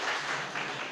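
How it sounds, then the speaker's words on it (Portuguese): Congregation in a Sunday evening church service claps together, a brief, even patter of many hands at moderate volume. "Palmas ao nosso Deus, irmãos."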